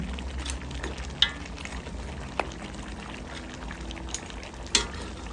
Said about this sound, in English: This is simmering down just very nicely